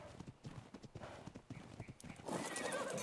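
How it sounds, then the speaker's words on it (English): Horse neighing and a rapid clip-clop of hoofbeats inside the video game Ark Survival Evolved, close and fairly loud, with the whinny rising into a bright burst near the end. "Yeah, there's another horse."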